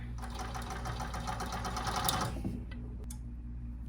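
Blind hemmer machine stitching the bottom hem of wide multi-seam drapery fabric, a steady mechanical whir with fast rhythmic ticking that eases and drops off near the end, close and alone.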